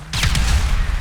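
A loud explosion in GTA V Online bursts suddenly, a booming blast with a crackling rumble that tails off over about a second, heard alone without talk.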